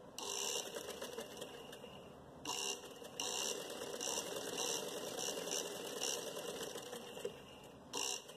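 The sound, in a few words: sewing machine stitching elastic into trousers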